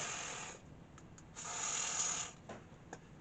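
Contact cleaner hisses from an aerosol can onto the electrical connections of a Truvox R44 floor machine in two quiet, close bursts of spray, with faint clicks in between and no speech.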